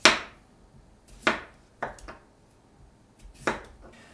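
A knife slices potatoes into rounds on a board, four or five crisp separate chops spaced irregularly, close and clear in a quiet room.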